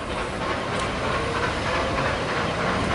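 Steam locomotive 3265 rolls through a station platform, a steady, loud rumbling wash of rail noise with a brief hiss, continuous and close throughout.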